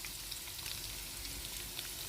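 Garlic and green chillies fry in oil until golden brown, a faint, even hiss of sizzling that holds steady throughout.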